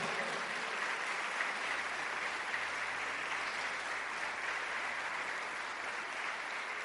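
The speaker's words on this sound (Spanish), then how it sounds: "Aplauda por eso, iglesia." Church congregation applauding during a Sunday service, a steady, dense wash of clapping that fills the whole stretch at an even level with no talk over it.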